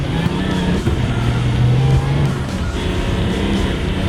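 A Mini driven on a frozen lake, its engine roaring loud and steady under throttle while the tires whine and slip across the ice.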